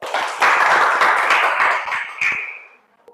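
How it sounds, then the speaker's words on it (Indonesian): A classroom of students in an Indonesian school claps together in one dense burst of applause lasting a few seconds before it quickly fades out. "Oke, tepuk tangan dulu."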